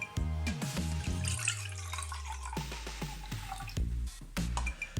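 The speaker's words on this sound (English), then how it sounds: "my eldest brother is pouring cups of water over my other brother" Cups of water are poured over a child in a bathtub, giving repeated splashes and drips in short bursts with sloshing between them, close and fairly loud.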